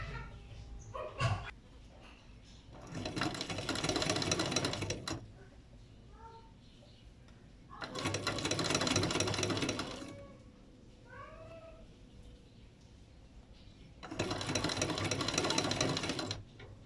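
A sewing machine stitches a folded side of fabric in three separate runs of steady rapid whirring, each lasting about two seconds, with quiet pauses between them where faint sounds are heard.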